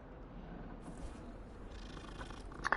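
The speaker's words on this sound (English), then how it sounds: "Oh, it's a cat." A cat in Hogwarts Legacy purrs softly and continuously, a low rumbling drone close by, with a faint rustle near the end and no talk.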